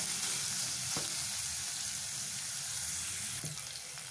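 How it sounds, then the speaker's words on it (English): Onions frying in a pan for a beetroot and potato curry, a constant close sizzle with a couple of faint stirring clicks and no voices. "So, fry this well."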